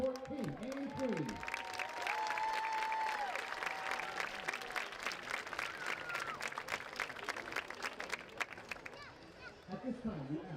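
A large outdoor crowd at a high school football game, Oil City against Franklin, claps and cheers for the Paramount High School homecoming court king and queen. The dense, sustained applause runs for about nine seconds, with a voice over a loudspeaker at the start and the end.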